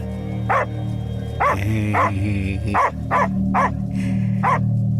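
A dog barks repeatedly at close range in a tense film scene, giving several sharp barks in an irregular rhythm over a steady low background hum.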